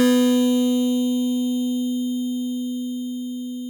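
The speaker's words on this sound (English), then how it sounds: "That type of distortion is also called aliasing." A steady synthetic tone with harsh, buzzy upper overtones, gritty digital aliasing distortion from sample rate reduction that slowly fades out over a few seconds, no voices.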